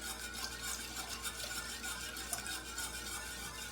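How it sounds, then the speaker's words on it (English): A whisk stirs milk into a cheese sauce base for homemade mac and cheese, a steady, soft scraping swish against the pot that goes on without a break and stays fairly quiet. "keep whisking and adding slowly"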